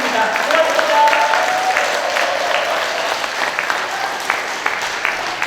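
An audience at a political union assembly in Busan gives a lecturer a long, steady, warm round of applause, full and close, with a voice speaking faintly over it.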